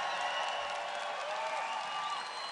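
Rally crowd in Arizona cheering and applauding in a steady, dense wash of claps and shouts, loud and continuous throughout with no break.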